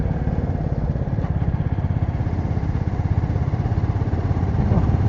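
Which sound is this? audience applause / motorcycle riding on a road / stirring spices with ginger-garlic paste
motorcycle riding on a road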